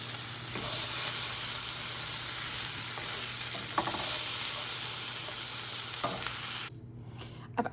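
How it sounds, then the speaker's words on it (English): Butter sizzling in a frying pan as tomatoes and onions fry, a steady close hiss with occasional clinks and stirring scrapes, ending in a quieter moment near the finish. "I have butter in the frying pan. I'm going to fry the tomatoes and the onions first."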